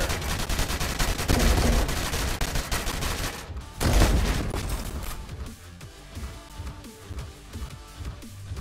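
Gunfire in the War Robots video game: dense, loud bursts of automatic fire and heavy blasts rattle continuously, with a short break before another barrage.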